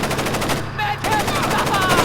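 Rapid automatic gunfire in the stealth game Splinter Cell: Chaos Theory, a loud dense burst of shots with a brief gap midway before firing resumes.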